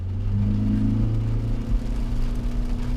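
A Toyota Corolla Cross, 2.0 flex or hybrid flex, pulls away hard from a standstill in a steady in-cabin engine drone that rises gradually as it accelerates, with no talk.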